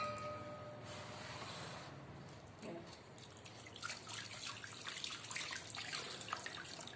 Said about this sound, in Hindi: उसके बाद इनको साफ पानी से धो लेना है।